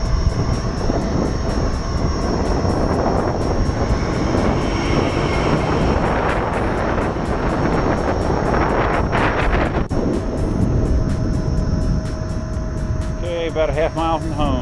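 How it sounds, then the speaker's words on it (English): Heavy wind buffets the microphone of a rider cruising on a Gotway Monster electric unicycle, a loud continuous roar and rumble that surges and eases, with a faint whine from the wheel. "Got a wind sort of side swiping me right now"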